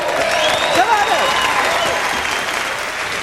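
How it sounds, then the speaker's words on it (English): A theater audience applauds for a volunteer at a magic and comedy show, a dense, lively clapping that stays loud and even, with a voice speaking briefly over it. "Give her a thunderous round of applause."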